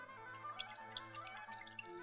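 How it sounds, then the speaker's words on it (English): A metal gelato spatula is rinsed in water, giving faint, quiet dripping and splashing with a few small splashes standing out. "We rinse the spatula."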